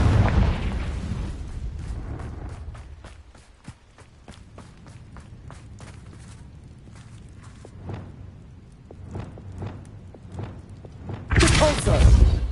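Confringo spell blast in the Hogwarts Legacy video game: a booming explosion at the start, then hurried footsteps, with another loud burst near the end.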